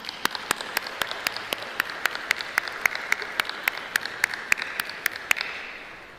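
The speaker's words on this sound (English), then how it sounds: "graduates, I'd like you to give your parents and your families and siblings a round of applause." A graduation audience at Hofstra University gives a round of applause for the graduates' parents and families, with steady, fairly distant clapping from a large crowd.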